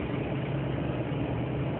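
An off-road vehicle on knobby tyres runs its engine in a steady, muffled low rumble, continuous and unchanging with no voices.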